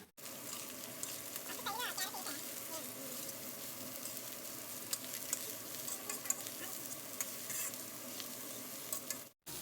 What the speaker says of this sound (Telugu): ఇప్పుడు క్యాబేజ్, క్యారెట్, బీన్స్ తురుము కూడా ఇలా వేసేసుకుందాము. వేసుకొని ఒక్కసారి బాగా కలుపుకొని